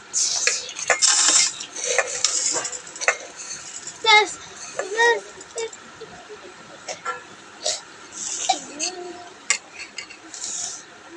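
Puffed rice is tipped onto plates at home, with crisp rustling pours and light clinks of dishes coming in separate bursts between quieter gaps.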